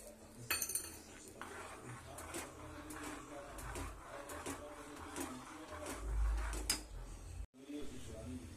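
A metal spoon scrapes and clinks against a pan while apple kesari bath, a sweet semolina dish with cashews and almonds, is stirred, with a spoken voice over the top and a short break near the end.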